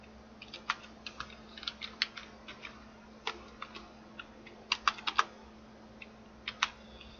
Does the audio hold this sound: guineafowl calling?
no